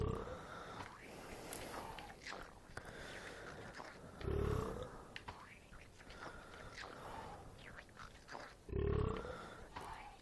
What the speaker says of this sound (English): it's burping every fucking time it eats